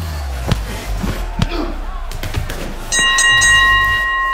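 A bell rings out at the end of a fight round, bright sustained tones following a series of thuds, slams and impacts with a voice underneath.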